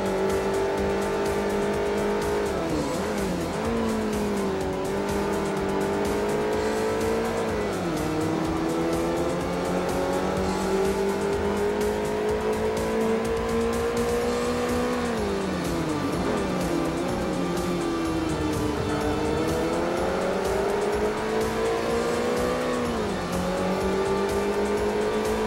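A Renault Megane race car in Forza Motorsport 4 on the Circuit de Catalunya holds a steady, loud engine note, with repeated sweeping pitch dips and rises as it slides and skids through turns.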